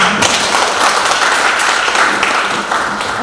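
Audience applause during a webinar event with a police unit in Jakarta, a moderately loud continuous patter of clapping that tapers slightly toward the end.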